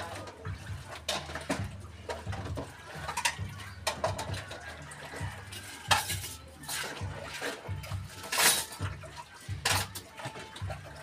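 Dried plates and dishes clink and clatter as they are stacked into a dish rack, irregular close knocks and rattles of ceramic and metal with a faint background bustle.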